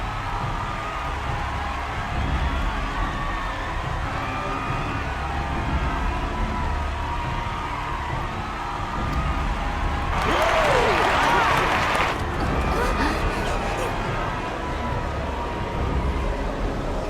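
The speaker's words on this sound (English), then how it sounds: "How gracious of you all to cheer the lesser Claydons." Crowd cheering and applause from a cutscene in Final Fantasy XIV, a broad wash of clapping and shouts swelling for about two seconds over steady game music, then fading back under the score.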